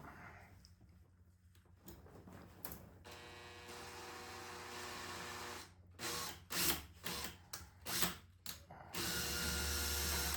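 Power drill driving into a surface while a Chinese diesel heater is installed, running steadily forward then switched to reverse, with bursts of whirring and ratcheting close up and no talk.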